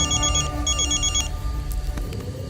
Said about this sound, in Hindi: तभी अचानक सन्नाटे को चीरता हुआ एक फोन का घंटी बजता है